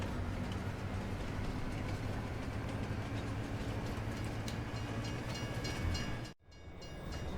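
A train pulls away in Farming Simulator 22, a loud continuous rumble of rolling wagons with faint clatter that runs steadily before cutting briefly near the end, with no voices.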